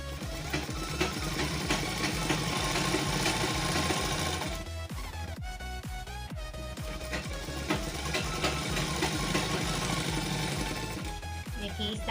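Sewing machine running hard while stitching a salwar seam, a loud rapid mechanical chatter in steady bursts with a brief pause and clunk midway before the stitching resumes.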